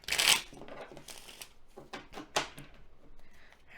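Tarot cards are shuffled by hand in soft, irregular riffles and taps, starting with one sharper burst and then quieter bursts of papery rustling, faint and close, with no talking.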